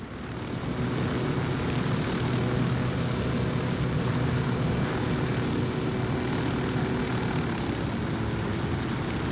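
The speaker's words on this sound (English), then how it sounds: "the helicopter feels good as well" Helicopter in the video game Ghost Recon Wildlands, played with a first-person mod, giving a steady, loud rotor and engine drone that continues unbroken for the whole stretch.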